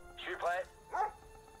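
Dogs in Command & Conquer Red Alert 3 give two quick barks, a yelping bark then a shorter second one, close and clear over a faint background hum.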